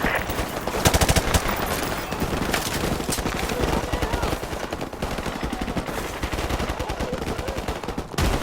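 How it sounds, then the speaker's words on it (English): Sustained machine gun fire during a Call of Duty: Modern Warfare Remastered campaign mission rattles loud and close for the whole stretch, a dense rapid stream of shots with distant gunfire and faint voices underneath. "Jackson, use their machine gun"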